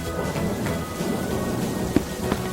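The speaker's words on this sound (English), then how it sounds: "It's raining, and Peppa spots her rainbow umbrella" Steady rain with low rumbling thunder underneath and a couple of sharp crackles, continuous and fairly close, in a cartoon.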